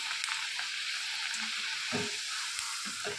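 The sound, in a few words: puris frying in oil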